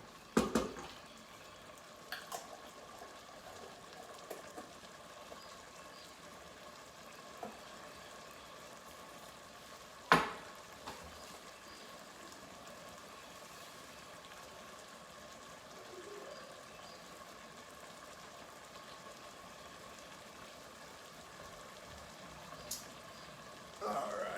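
Mushroom ragout simmering and reducing in a pan gives a low, steady, even bubbling hiss. A few faint clicks and knocks of a utensil break through now and then, with the loudest near the middle.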